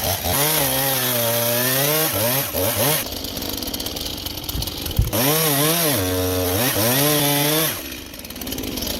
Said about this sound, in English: a chainsaw is used to cut precise openings in the log walls for windows or doors